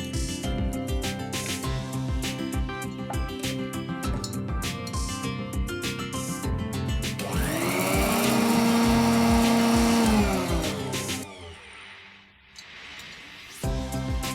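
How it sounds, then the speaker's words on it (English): Electric grinder whirring as it powders roasted spices, a loud steady mechanical drone that surges in pitch midway, then cuts off and leaves brief quiet. "Let us now grind it to a nice fine powder."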